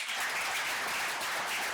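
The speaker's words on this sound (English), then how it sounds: "A round of applause for ZIDA." A short burst of dense clapping from an audience at the ZIDA 2026 BKPO business forum fills the room evenly, with no voices over it.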